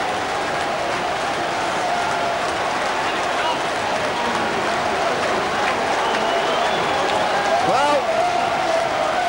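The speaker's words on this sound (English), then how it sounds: "Milking the applause." A large football crowd claps and cheers at a 1996-97 Bradford City match after a third goal in three Saturdays, a broad, steady roar of applause filling the ground with a commentator's voice over it.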